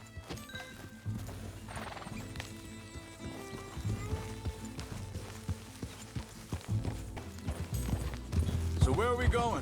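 Horse hooves clip-clop in the Red Dead Redemption 2 video game, a steady walking rhythm of hoof strikes with a horse whinny near the end, mixed with ambient game sound and nearby voices.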